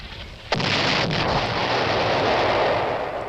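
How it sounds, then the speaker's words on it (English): Tank guns shelling Greek Cypriot National Guard barracks in Famagusta during the 1974 Turkish invasion of Cyprus: one sharp blast lands near the start, followed by a sustained roar of fire and rumble that holds loud to the end. "The tanks shell the barracks."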